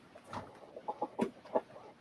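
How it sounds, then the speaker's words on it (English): Stu, a pet rooster, gives a series of soft, low clucks and short throaty murmurs close by, quiet and irregular. "this is Stu, my rooster"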